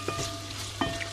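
Food sautés gently in a pan on a stovetop at moderate heat, a soft continuous sizzle with a few light stirring clicks and scrapes, close and fairly quiet, without speech.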